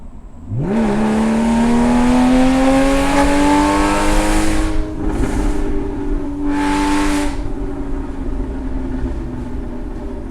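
A car fitted with new high-flow 200-cell headers revs hard, its exhaust rising into a loud climbing drone before easing off, followed by two shorter bursts.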